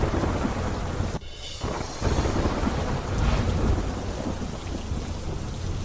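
Heavy downpour in the Saurashtra region, a dense steady roar of rain broken by low rolling rumbles of thunder, with no voices.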